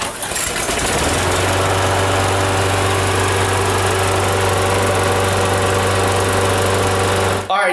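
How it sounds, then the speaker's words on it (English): A pull-started lawn mower's small petrol engine roars to life and runs loud and steady with a rough, buzzing drone, then cuts off abruptly at the end. "my hidden talent is that I can crank the lawnmower in one pull"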